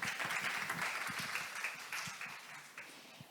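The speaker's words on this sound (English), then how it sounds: "Everyone, please give a round of applause to Bob McCooey." Audience applause at a technical session on listing strategy, a steady wash of many hands clapping close to the mic that gradually fades toward the end.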